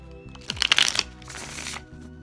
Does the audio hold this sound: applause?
no